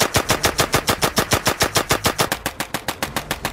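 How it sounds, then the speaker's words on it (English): An M3 grease gun submachine gun firing in a World War II war film: a steady, rapid burst of loud, evenly spaced shots, about seven per second, continuous for several seconds. "Have you ever shot a grease gun?"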